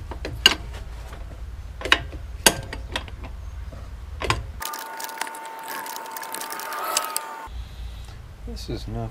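Ratchet with an 18 millimeter socket working on a Ford Taurus during coolant leak repair: several sharp close clicks and clanks, then a stretch of buzzing whir, with some soft talk in the background.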